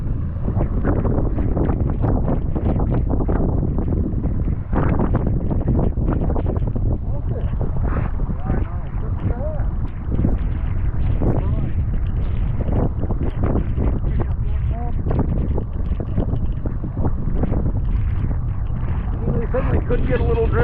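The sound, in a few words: boat moving on a lake in the wind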